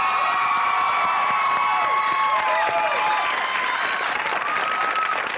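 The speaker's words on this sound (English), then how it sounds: "You have quite the energetic crowd today." A talk show studio audience applauds and cheers, a dense, loud, continuous wash of clapping with a few whoops running the whole time.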